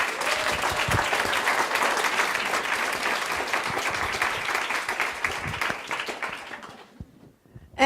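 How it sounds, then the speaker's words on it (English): An audience at an evening design talk gives a sustained, loud round of applause that tapers off toward the end. "Let's just give her a round of applause"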